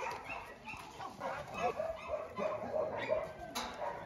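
Several dogs yip, whimper and bark softly at a distance as they are moved into a newly built, larger enclosure with a rain shelter on a mountain property, the sounds scattered and overlapping.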